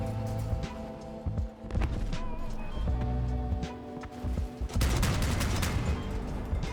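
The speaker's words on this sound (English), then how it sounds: "The sound when you fire the Mandrakes is so satisfying." Mandrake weapons fire in the vehicle combat game Crossout, a loud burst of booming shots and rapid volleys over a droning engine, with a heavier barrage building near the end.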